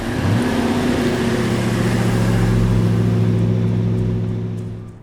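A 1975 John Goss Special's 302 V8 engine rumbles loud and close in a deep, steady burble that holds for several seconds before easing off at the end.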